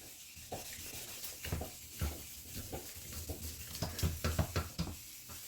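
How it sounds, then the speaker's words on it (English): Wet sanding a car headlight lens with 2000 grit sandpaper: a steady run of close rubbing, scraping strokes that quicken and grow louder toward the end, with no voices. "The results from wet sanding your headlights is something that you cannot get from any of those kits at the store."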